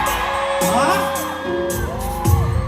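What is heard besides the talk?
concert crowd shouting and cheering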